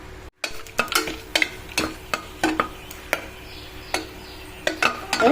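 Three cloves, a cardamom pod and a cinnamon stick crackle in hot ghee, a run of quick, fairly close pops and spits at an irregular rhythm over a low steady sizzle.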